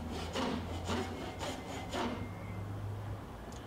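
A hand saw rasps through wood in steady back-and-forth strokes, about four rhythmic pulls, close and moderately loud with no talking.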